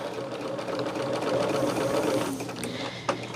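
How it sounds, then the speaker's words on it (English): A sewing machine runs a slow, even line of stitching, its steady whirring hum carrying for about two seconds before stopping and giving way to a few sharp mechanical clicks. "I'm stitching right in between those, and I am going to do that on all of them, going both directions."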